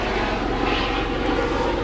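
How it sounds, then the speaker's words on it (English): Helicopter flying low overhead at an outdoor women's T20 cricket match in Bali, a loud, steady rotor and engine roar that fills the whole moment with no break. "Maybe a little bit hard to hear with the helicopter over the top of us."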